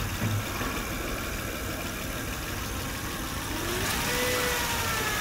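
A Honda Odyssey engine with oil leaking onto the alternator hums steadily at idle and then rises slightly in a mild rev toward the end, heard close with a broad, even engine roar and no talk.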